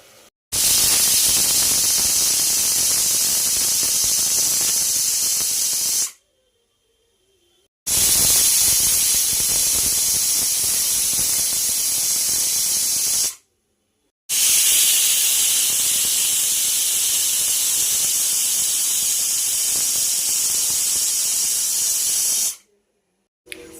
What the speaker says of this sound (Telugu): మూడు విజిల్ వచ్చినాయండి